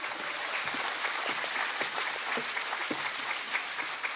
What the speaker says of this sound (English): One round of applause for our STEAM Educator and Administrator.